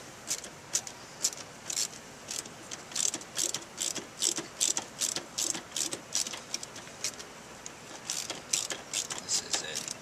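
A ratchet clicks in quick bursts while a screw is backed out of the rear speaker panel of a Nissan 300ZX. The bursts repeat at close range, with brief pauses between them.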